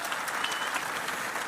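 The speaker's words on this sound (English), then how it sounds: "Let's give him a warm round of applause." A crowd claps in warm, sustained applause at a Kenyan university ceremony, steady dense clapping with no voices over it for the whole stretch.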